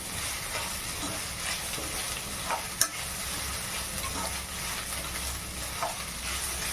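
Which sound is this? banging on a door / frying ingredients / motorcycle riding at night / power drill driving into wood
frying ingredients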